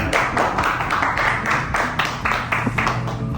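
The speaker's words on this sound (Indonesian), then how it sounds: "Tepuk tangan" A classroom of pupils claps hands together in a loud, steady burst of many overlapping claps, with a rhythmic patter that holds for several seconds without speech.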